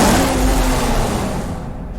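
A Dodge Viper SRT10 in Need for Speed Hot Pursuit roars loudly and steadily at high revs, a thick continuous engine drone that eases slightly toward the end.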